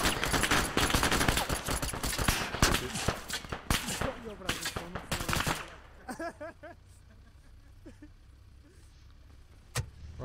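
Airsoft guns fire in rapid, loud, close bursts during a team skirmish, dense crackling volleys for about five seconds, then shouting voices with a sharp single shot near the end.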